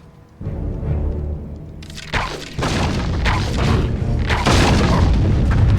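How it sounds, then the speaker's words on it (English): Explosives blow up in the PS2 game The Lord of the Rings: The Two Towers, with a deep boom that builds into continuous loud, rumbling blasts and crashing debris lasting several seconds. "Watch out for the explosives!"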